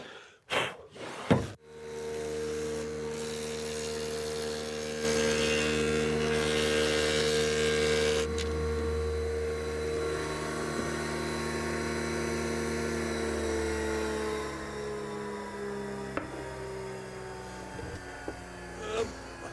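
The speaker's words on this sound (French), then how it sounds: "ensuite je le taille à la toupie. Ça, je vais le faire tout de suite" A wood router shaping a barrel head runs with a loud, steady motor whine and hum as it cuts, holding continuously for most of the clip with no talking.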